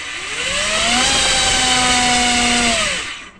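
A waterproofed electric motor on an older 4S battery setup spins up to full throttle with a rising whine. It holds a steady high-pitched scream for about two seconds, then winds down, loud and close with no talking.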